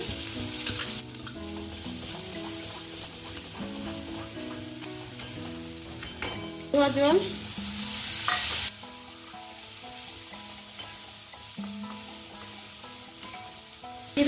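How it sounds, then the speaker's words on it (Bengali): Spices and sugar sizzle in a pan for Bengali chicken kosha while a spoon stirs and scrapes, giving continuous close frying hiss with a louder burst of sizzling partway through. "সামান্য চিনি কষিয়ে সুন্দর কষে গেছে"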